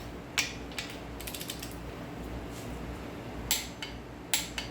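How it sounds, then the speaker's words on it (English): A torque wrench ratchets as it tightens bearing cap bolts during a 350ci engine bottom end rebuild, giving a few sharp metallic clicks in quick bursts over low shop noise and heard close. "torqued that one down before torquing this one down"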